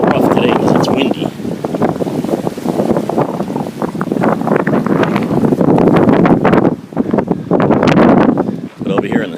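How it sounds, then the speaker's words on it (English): Strong, gusty wind buffets the microphone beside a harbor breakwall, roaring loudly in waves with brief lulls, with someone talking over the noise. "It's a little rough today because it's windy."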